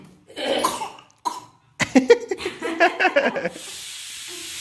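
A woman coughs close by in a fit of repeated harsh bursts, first a few separate coughs, then a rapid run of spluttering ones.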